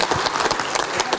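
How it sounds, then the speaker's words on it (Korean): A crowd applauding at a political party members' meeting, dense continuous clapping filling the whole moment at steady volume. "큰 박수 부탁드리겠습니다"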